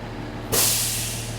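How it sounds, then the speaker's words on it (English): A truck's air brake governor cuts out once the air tanks are full, releasing a sudden sharp burst of hissing air that slowly tapers off over a low, steady engine idle. "I'm going to build them up till I hear my governor kick out"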